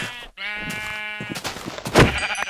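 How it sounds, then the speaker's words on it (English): Sheep in the Minecraft video game bleat in a clear, close, wavering cry followed by a few shorter bleats and scuffling game sounds. "I'm just gonna run around randomly, murdering sheep"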